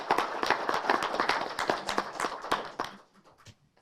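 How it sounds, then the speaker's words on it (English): A small audience at a county board meeting gives a round of applause to the Yuma County Merit Award System Board, with close, distinct individual claps forming an uneven patter that thins out and stops near the end. "I'd like for us to give them a round of applause"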